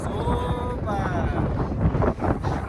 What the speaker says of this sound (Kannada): ಇಲ್ಲಿ ನೋಡಿ ಗಾಳಿ ಹಿಂಗಿದೆ